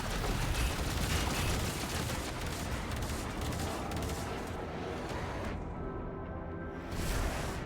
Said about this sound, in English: Gunnery crews, launch torpedoes.